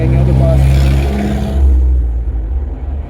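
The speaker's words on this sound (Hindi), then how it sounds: "तो गाड़ियों का शोर तो आना ही है, क्योंकि इधर गाड़ियाँ रोड के ऊपर बैठा हुआ हूँ, खिड़की खोली हुई है" Steady road traffic from vehicles passing on the street outside an open window at a roadside shop, a loud continuous rumble that eases after the midpoint.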